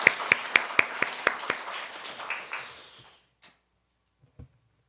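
A church congregation welcoming a new family claps in a quick, even rhythm, loud synchronized claps over scattered hands. The clapping thins and stops after about three seconds, leaving near silence with a couple of faint knocks.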